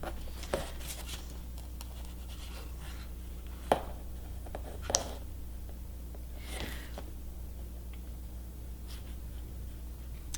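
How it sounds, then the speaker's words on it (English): A watercolor brush moves across paper in faint, soft strokes and light taps, with a few sharper clicks over a quiet room hum. "Painting to the edge of the paper."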